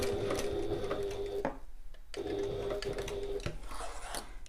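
Sewing machine basting a quarter-inch seam on a fabric passport folio, running steadily in two close bursts separated by a brief pause, with a faint hum between.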